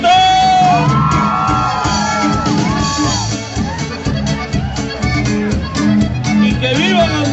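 Loud gritos, Mexican whooping shouts, rise and fall across a live norteño performance, sliding yells over accordion-driven music and crowd noise, repeated several times close to the microphone.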